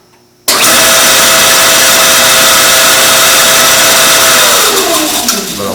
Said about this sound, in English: I don't know whether I've got a bearing on its way out or the motor's on its way out.